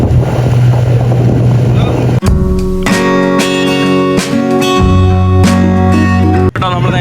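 A motorboat's engine drones loudly on the water with wind buffeting the microphone, the tone shifting as it passes, with talk over the engine.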